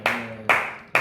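Three sharp hand claps ring out, spaced about half a second apart, each with a quick bright attack and a short room decay, close and loud with no voices.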